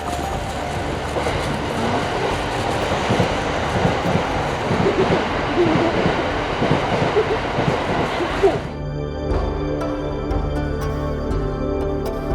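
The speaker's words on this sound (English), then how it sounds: "There's a train like that divides the forest." A train passes close by through the Arashiyama bamboo forest in Kyoto with a loud, dense rumble and clatter of wheels for about nine seconds. It cuts off abruptly, leaving quieter tonal background sound.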